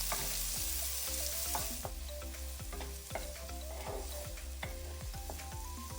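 Chopped onions and green chillies sizzle steadily in hot oil, with a constant frying hiss and repeated scraping clinks of a spatula stirring the pan close by.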